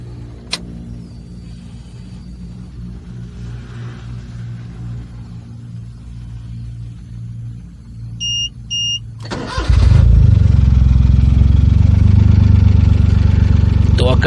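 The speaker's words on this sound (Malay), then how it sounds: "Okey, tuan-tuan, jom kita naik kereta." A car at night on Jalan Puncak Alam idles with a low steady hum, then brief electronic beeps sound and the engine starts and rumbles loudly close by, with faint voices underneath.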